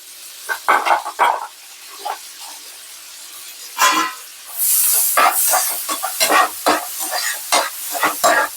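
Garlic and onion sauté in a pan, with a soft sizzle under repeated scraping stirs of a spoon against the pan, coming in short bursts with brief pauses between them.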